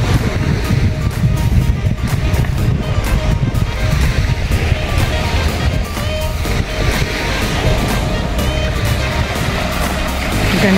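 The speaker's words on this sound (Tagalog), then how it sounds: "ang lakas po ng alon. Feel na feel ko talaga yung ano, yung dagat." Strong waves breaking along a white sand beach front in Mulanay, Quezon, a loud steady rush of surf and wash that fills the whole stretch, with wind buffeting the microphone.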